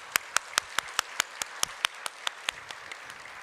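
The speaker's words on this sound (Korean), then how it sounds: "애써주신 우리 선생님들께 박수 한번 부탁드립니다" A small congregation at a church service claps for the teachers, a brief, moderately near burst of separate, fairly regular claps rather than a full roar.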